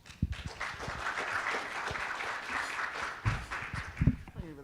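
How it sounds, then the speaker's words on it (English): Audience applause at a Native Edge Institute gathering in Seattle, a steady wash of clapping from a seated crowd lasting several seconds, with a few voices and nearby sounds breaking through near the end. "another round of applause, please"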